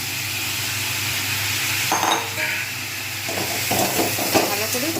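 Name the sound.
stirring food in a pan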